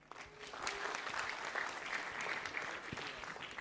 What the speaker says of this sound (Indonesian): Tepuk tangan sekali lagi dong untuk Alan.